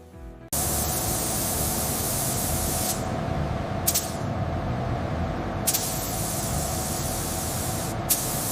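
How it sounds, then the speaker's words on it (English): Steady, loud hissing spray from robotic arms applying a deep metallic black base coat to a Mercedes G63 body inside a paint booth, continuous after an abrupt start, with brief surges of airflow now and then. "Robotic arms apply a deep metallic black base coat, a synchronized dance of artistic automation."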